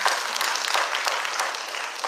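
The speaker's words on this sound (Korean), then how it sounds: "박수 한번 보내주세요" An audience at a forum event claps steadily, a close and full burst of applause that holds at an even level throughout.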